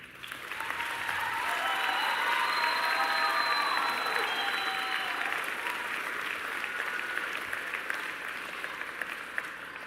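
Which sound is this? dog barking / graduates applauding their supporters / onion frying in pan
graduates applauding their supporters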